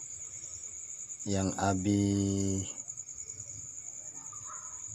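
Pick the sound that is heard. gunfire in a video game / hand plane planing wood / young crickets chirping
young crickets chirping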